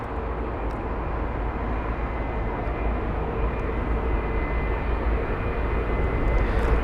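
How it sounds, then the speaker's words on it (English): A large airliner climbing out after takeoff at London Heathrow with its gear up, a steady broad engine roar holding at constant strength throughout, fairly distant and unbroken by any other sound. "That absolutely stunning aircraft, you can see there, gear up"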